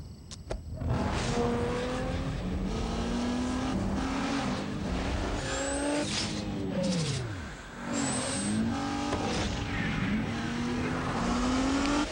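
A 265-horsepower Nissan Maxima engine revs loudly and continuously, with rising and falling pitch sweeps and a brief dip midway, like a car accelerating hard in a television commercial backed by music.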